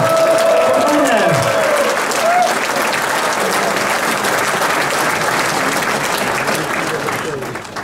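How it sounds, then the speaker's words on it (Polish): Steady, dense applause from a large audience at a political meeting with a party leader in Bielsko-Biała, loud and continuous for several seconds as a voice carries faintly over the clapping. "Wielkie brawa!"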